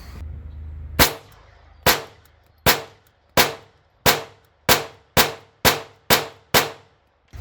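Handgun shots fired at a range target 7 yards away with a green dot sight, ten sharp reports that start slow and speed up, each with a ringing decay, loud and alone.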